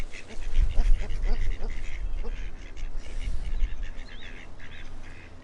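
Paradise shelducks call repeatedly in New Zealand, with loud honking quacks and harsher notes over steady outdoor background noise. The calls come in several bursts across a few seconds and sound close.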